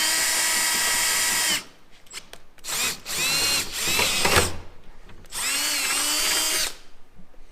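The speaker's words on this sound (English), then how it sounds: "our drill bit with our 5/16 drill, and we're just gonna start drilling out this hole" A 5/16 drill bit bores a hole through the sheet metal of a Jeep Wrangler JL fender. The drill whines loudly and steadily, stops briefly, then returns in several strong bursts close by.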